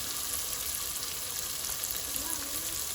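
Continuous loud sizzling of seasoning frying in a pot for Haitian rice and beans, a dense crackling hiss with no pauses.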